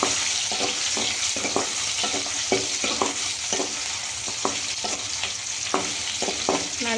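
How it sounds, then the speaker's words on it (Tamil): Tomatoes and onions fry in oil in a pan, a loud steady sizzle broken by regular scraping strokes of a spatula stirring the mixture up close. "எண்ணெயிலே தக்காளியும் வெங்காயமும் நல்லா வணங்கிட்டுருக்கு"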